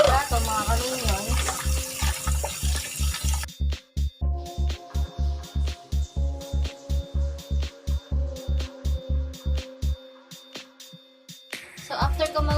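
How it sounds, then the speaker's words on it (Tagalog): A tap runs loudly at first while dishes are being washed, then fades behind a steady, regular thumping beat that carries on with occasional clatter. "So maghuhugas muna ako ng mga plato, mga kaminos."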